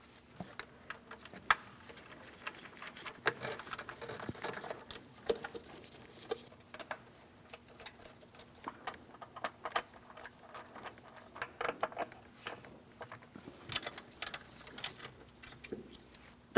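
Mounting bolts on a Ford Transit 250 engine are started in by hand, making faint, irregular ticking and light metallic clicks and taps close up in an otherwise quiet space.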